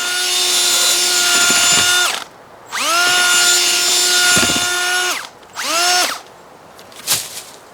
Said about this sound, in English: I'm gonna grab that drill and dig that out just a little bit more.